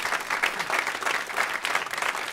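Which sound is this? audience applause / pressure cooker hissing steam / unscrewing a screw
audience applause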